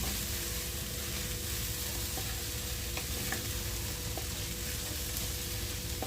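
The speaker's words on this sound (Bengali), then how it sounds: "চাল আর ডাল সর্ষের তেল আর মশলাতে একটু ভেজে নিচ্ছি" Rice and dal frying in mustard oil with spices, a steady soft sizzle with light stirring throughout, close and fairly quiet.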